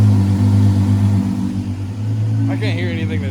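Engine of a 700hp AWD supercharged daily-driver car with an opened-up exhaust, idling as a steady low, even rumble throughout, quieter than expected, with voices talking faintly in the background.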